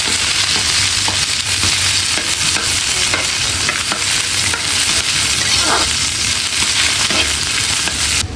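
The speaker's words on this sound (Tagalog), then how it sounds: "Dadagdag ko na rin po itong mga sibuyas." Onions and ginger sizzle steadily in a hot pan, a loud continuous frying hiss with occasional stirring scrapes and crackles throughout.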